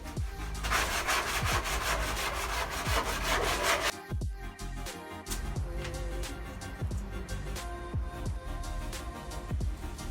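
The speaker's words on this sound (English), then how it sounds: "I grabbed a grit sheet to sand down the edges." Rhythmic rasping strokes of grit sandpaper rubbing across wooden edges of a farmhouse headboard, close up, fast and continuous at first, then slower separate passes with small knocks between them.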